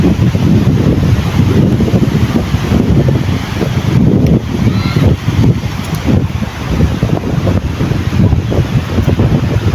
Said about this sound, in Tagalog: Ang lakas po ng hangin dito ngayon.